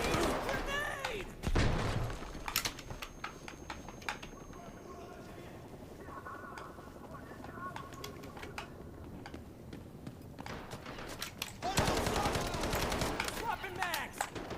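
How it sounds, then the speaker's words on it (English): Grenade blast and bursts of gunfire in the Black Hawk Down video game, loud impacts near the start and again toward the end with scattered shots and a voice speaking between them. "Grenade!"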